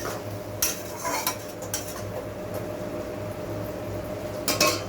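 Fish curry spice paste frying with a splash of hot water in a pan for machher jhol: a low steady sizzle under repeated scraping and clinking of a spoon against the pan, coming in short bursts, close and moderately loud.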